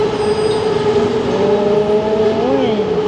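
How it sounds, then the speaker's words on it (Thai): A train passes by a scenic Thai railway spot popular for photos, its steady rumble and a rising tonal whine carrying under continuous voices nearby. "เวลารถไฟ วิ่งมานะครับ"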